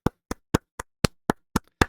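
Eight crisp hand claps close to a microphone, evenly spaced about a quarter second apart, each sharp and isolated in otherwise silent air.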